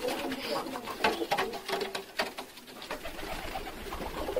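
Pigeons and young pigeon chicks coo and rustle close by, a soft, continuous burble of low calls with a few louder bursts.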